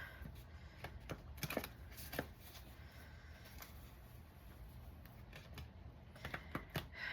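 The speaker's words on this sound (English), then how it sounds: "I'll try to shuffle quietly." Playing cards shuffled quietly by hand, giving soft repeated riffling bursts and light clicks at close range over a faint steady background hiss, with no one speaking.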